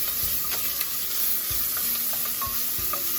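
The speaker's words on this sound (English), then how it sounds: "So we're just kind of pan-searing that around. Trying to render some of that good old bacon drippings out of there." Bacon sears on medium heat for meatloaf, giving a loud continuous sizzle and crackle with occasional soft knocks and stirring scrapes in the pan.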